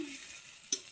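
Chopped garlic sizzles in hot oil in a frying pan for a chicken curry, a steady soft hiss with one brief stir or clink near the end.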